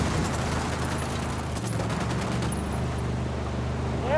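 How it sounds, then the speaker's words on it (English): Gunfire in the video game Ghost Recon Wildlands, a dense, steady fusillade of rapid shots sustained through the whole stretch under a busy game soundscape. "I'm opening fire on these shitheads."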